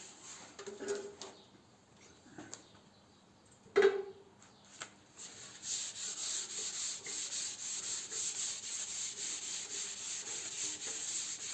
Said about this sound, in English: So the idea when you're sanding primer